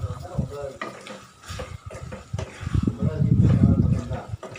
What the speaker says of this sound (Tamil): இப்போ நம்ம கொத்தமல்லி கருவேப்பிலை போட்டுக்கலாம். போட்டு நல்லா மிக்ஸ் பண்ணிக்கலாம்.